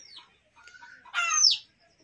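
Chickens in a poultry coop give a few short clucks and a louder rising squawk near the end, fairly close and otherwise quiet, with no talking.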